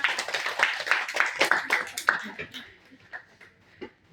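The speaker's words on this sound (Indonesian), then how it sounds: "Tepuk tangan kita semua." A classroom group claps together during a micro-teaching lesson, a burst of many hands at moderate distance that fades into scattered claps and voices after about two seconds.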